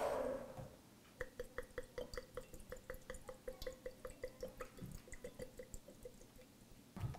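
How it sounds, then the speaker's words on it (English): A third of a cup of vinegar pours into a jar for salad dressing, giving a quiet, rapid, evenly spaced glugging trickle that runs for several seconds before stopping, with no talking. "So I'm going to put 1/3 of a cup of vinegar in here."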